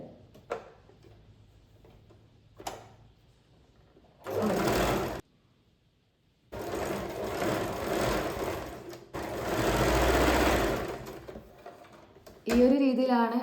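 Sewing machine stitching a small baby dress, running in several loud bursts of a few seconds each with pauses between, and a faint ticking between runs.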